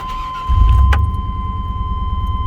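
A 1998 Chevrolet K1500 pickup with its original high-mileage Chevy 350 V8 cranking and firing up, the engine catching after a brief start and settling into a steady, loud, close idle.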